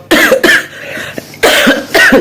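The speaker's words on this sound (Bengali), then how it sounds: "কথা বললেই কাশি বেড়ে যাচ্ছে" A person with a sore throat and a bad cold gives two harsh, loud coughs close to the microphone, separated by a short pause.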